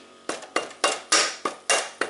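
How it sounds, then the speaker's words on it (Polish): A rubber mallet taps the cylinder head of a Honda CR 80 motorcycle engine to loosen it, landing eight sharp, evenly spaced knocks close by with nothing else heard. "Możemy lekko puknąć młotkiem gumowym."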